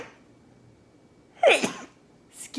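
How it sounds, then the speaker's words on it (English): A single sharp sneeze close by, preceded by a faint intake of breath, in an otherwise quiet room with a brief breathy sound just after. "Oh, I'm gonna sneeze."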